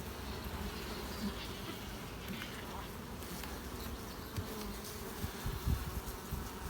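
A dense, steady buzzing of many honey bees close by at a hive, a continuous low hum with occasional louder passes near the microphone.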